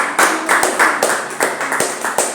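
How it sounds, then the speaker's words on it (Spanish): Church congregation clapping together in a steady rhythmic beat, about two claps per second, fairly close and loud, with no voices over it. "Denle un aplauso al Señor."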